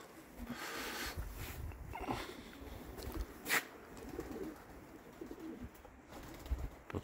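Pigeons heard outdoors, with soft cooing and a few brief bird calls at moderate distance over faint background noise and occasional scattered knocks.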